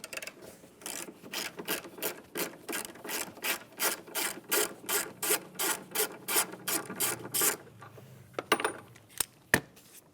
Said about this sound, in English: Let's remove that mounting bolt and the battery hold down.